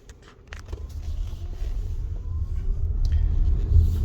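Interior of a Toyota RAV4 on cruise control as it speeds up on its own from about 30 km/h: the road and engine rumble swells steadily over a few seconds, with no one talking.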